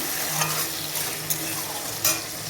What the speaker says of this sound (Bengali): আলুটা লাল লাল করে ভাজা হয়ে গেলে একটা টমেটো কুচিয়ে দিয়ে দিলাম